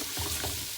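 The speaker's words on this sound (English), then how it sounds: "I'm going to keep stirring this for about 4 or 5 minutes" Homemade chutney bubbles softly in a pan under a gentle stir, a brief, close frying hiss ending with a sharper scrape.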